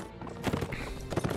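A horse gallops in the video game Mount & Blade with quick, rhythmic hoofbeats thudding close over a dense, noisy game soundscape.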